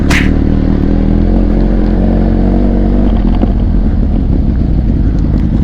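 Benelli TRK 502X motorcycle fitted with a Daivo exhaust, heard while riding, giving a loud, steady engine drone with low rumble throughout and a brief sharp noise at the start.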